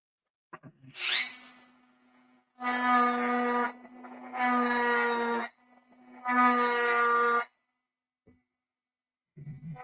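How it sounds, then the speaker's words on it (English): A small Dremel rotary tool whines at a high pitch while drilling a hole, in three or four separate runs of a second or so each, with short pauses between. "I'm not going to use a drill. I'm going to use this Dremel."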